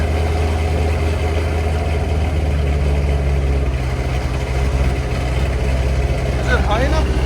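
Steady low burble from a 1969 Chevy Corvette V8 with a fresh engine, headers and Borla Atak exhaust, idling on a cold start close by, with a brief voice near the end.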